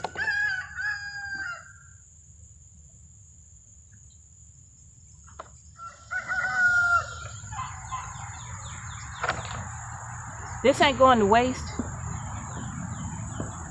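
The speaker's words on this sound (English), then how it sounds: "My chickens are eating good this summer, y'all." Backyard chickens cluck and a rooster crows loudly near the end, over a steady bed of insect chirring, while a person speaks briefly.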